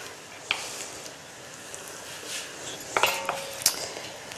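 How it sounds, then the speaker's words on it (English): Tuna and penne pasta tossed together in a bowl, giving a few sharp clinks of a utensil against the dish with soft stirring between, close and alone. "So pop that in and give it a good mix"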